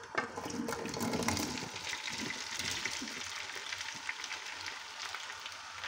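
Potatoes fry in oil in a pan with caramelised onion, a steady broadband sizzle running throughout with occasional stirring clatter, close and moderately loud.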